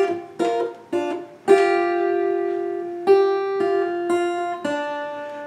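Clean electric or acoustic guitar plays a passage from a Hytale game tune: a handful of plucked notes and chords, each ringing out and decaying before the next, close and alone.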